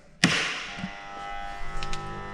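A centrifugal pump on a lab test rig is switched on at low RPM: a single sharp thud, then a steady whirring hum with faint tonal whine that carries on to the end.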